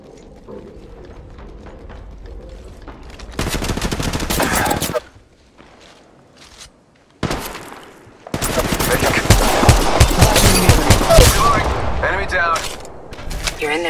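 Heavy automatic gunfire from the battle royale shooter Apex Legends: long, loud sustained bursts close by, broken by short lulls of quieter background game sound, with a brief voice line at the start.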